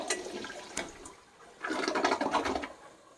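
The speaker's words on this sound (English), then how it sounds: "We have a toilet that flushes." A newly installed toilet flushes after a long bathroom renovation: a brief clunk of the handle, then a loud rushing, gurgling swirl of water that runs for about two seconds, close by, with no talk.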